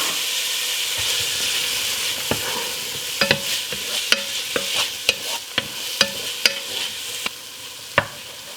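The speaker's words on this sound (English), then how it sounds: "Now that these peppers have started to tenderize, let's add in our onions." Red peppers and onions sizzle in a pan for turkey chili, a steady frying hiss broken by repeated sharp clicks and scrapes of stirring, close and fairly loud with no talking.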